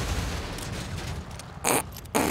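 Two sharp, loud gunshot bursts from a revolver in the video game GTA 5 ring out near the end, spaced about half a second apart over steady game background noise.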